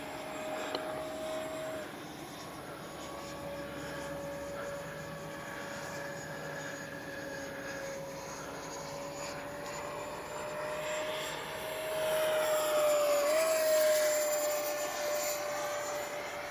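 A small H-King Flycat V2 RC jet flies from left to right after takeoff, a thin, steady turbine-like whine heard from a distance that rises in pitch and gets louder toward the end as it passes.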